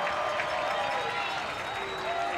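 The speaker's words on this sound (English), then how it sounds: "this crowd is alive at Blue Streak Stadium now" A high school football crowd at Blue Streak Stadium roars and applauds after a short touchdown run, a sustained wash of cheering and clapping with a voice carrying over it.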